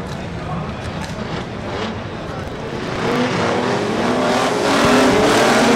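Pre-1990 unlimited banger racing cars pulling away at the start of a race on a Mildenhall oval: a dense, steady roar of many engines that builds louder as they accelerate, with a commentator talking over it.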